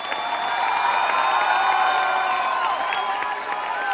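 Audience applause for the cast at a musical theatre re-premiere: a dense, sustained wash of clapping mixed with cheering, steady and loud throughout with no pauses.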